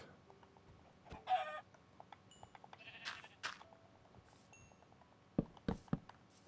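Sheep bleat at a sheep farm in the Minecraft video game, several short calls spread across the stretch along with some clucking-like game sounds, fairly faint with no talk.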